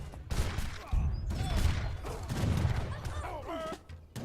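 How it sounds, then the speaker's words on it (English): Cannon and gunfire volleys from an Age of Empires III Definitive Edition tournament battle, a dense clatter of overlapping shots and in-game mechanisms under steady commentary talk. "Those cannons might do something to try and sway the Stillets though."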